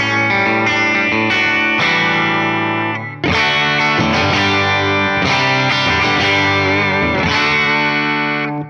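Distorted electric guitar, a Fender Player II Stratocaster on its bridge pickup through a Tone Master Pro with reverb, sustained chords with a bright, biting edge and a brief gap before strumming resumes, loud and continuous.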